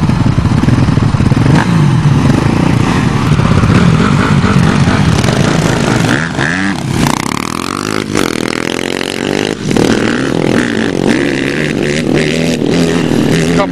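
A Suzuki LTZ400 and a Yamaha 700 Raptor ATV race together on a farm track, their engines loud and close, revving hard with steady droning and shifting throttle surges throughout.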